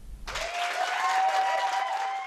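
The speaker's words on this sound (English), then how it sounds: "Cheers and applause greet a group at this year's Leadership Victoria graduation ceremony." A crowd applauds and cheers a group at the Leadership Victoria graduation ceremony, a thick burst of clapping that starts abruptly and holds loud and steady, with a sustained voice-like tone riding through it.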